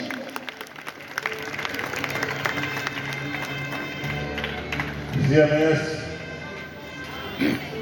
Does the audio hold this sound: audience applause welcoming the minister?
yes